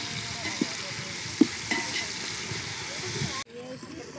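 Ginger garlic paste frying with onions in a pan while cooking mutton biryani, a steady close sizzle with a few stirring knocks, then a sudden drop to a quieter sizzle near the end.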